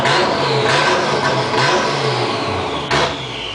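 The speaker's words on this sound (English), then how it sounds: "I gotta snap throttle it to keep it going." A rough pickup truck engine that keeps trying to die is kept alive with sharp throttle snaps. Short, loud revving bursts rise and fall a few times over a low, uneven idle.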